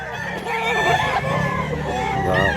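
A Black Macri rooster at a fowl sale crows loudly and close, one long drawn-out call that fills the whole moment, with faint other birds in the background.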